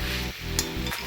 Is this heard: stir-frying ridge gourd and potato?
yes